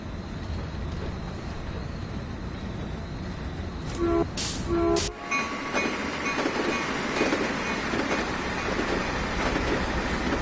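A train in the Train Sim World game rumbles steadily with rhythmic rail noise and a brief burst of louder mechanical sounds midway, with no talking.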